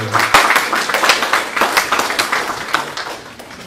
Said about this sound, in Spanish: Amén, un aplauso.